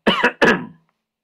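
Two close, harsh coughs in quick succession, near and fairly loud, then silence.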